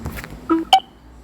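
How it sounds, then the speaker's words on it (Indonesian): An AI chat phone app gives two short electronic tones as the screen is scrolled fully to the top, a lower beep followed by a higher one, clear and close against near silence. "Kalau kalian scroll ke atas betul-betul mentok,"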